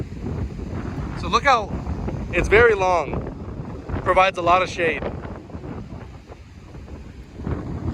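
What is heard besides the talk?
wind noise on the microphone outdoors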